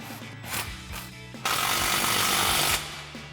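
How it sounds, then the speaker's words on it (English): An impact wrench with a 15mm socket snugs an exhaust clamp on a Ford F-150 during an MBRP exhaust install, with short rattling bursts followed by one longer loud hammering run, close up. "Now we'll go ahead and snug our clamp down, again using our 15mm socket on our impact."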